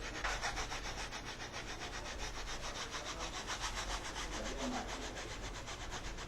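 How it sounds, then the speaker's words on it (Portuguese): A paintbrush scrubs paint onto a craft surface, making a steady, rapid bristle rubbing that stays close and even throughout, with no voices. "com a mesma sujeirinha que eu tô usando do pincel, não vou limpar ele, e vou esfregar para deixar bem preenchidos os espaços"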